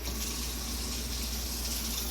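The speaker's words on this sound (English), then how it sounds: "And put a little water in them." Water pours steadily into a pot of rinsed greens, a continuous close-up splashing rush with no pauses.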